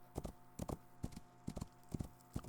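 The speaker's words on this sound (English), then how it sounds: "Oh, white horse, where are you?" A white horse in the survival game Rising World trots along, with close, evenly paced pairs of hoof clops repeating about every half second and no clear whinny.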